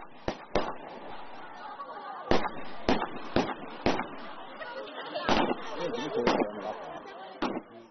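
Firecrackers at a Lisu wedding in a mountain village go off in sharp, loud, irregular bangs, singly and in quick pairs, while people chatter and talk in the background.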